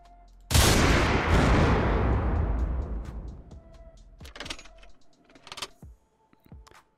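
In the video game Unturned, an explosive detonates with a sudden loud blast that rolls off over a few seconds, followed by scattered clicks and small debris-like knocks.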